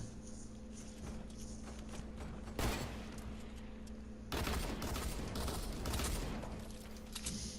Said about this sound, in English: So I hear him shooting